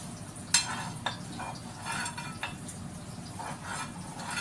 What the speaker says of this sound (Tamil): நான் இப்போ நெய் சேர்த்துறேன்